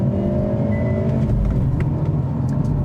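A 2025 Volkswagen GTI manual launching hard with launch control and a little wheel hop, its engine roaring in a steady, loud, close rumble that builds throughout.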